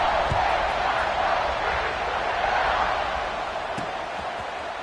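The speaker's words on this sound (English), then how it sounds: "this crowd is buzzing after that last score" Stadium crowd at an Indiana football game producing a steady, broad roar that fills the whole stretch, with a faint thump or two inside the din.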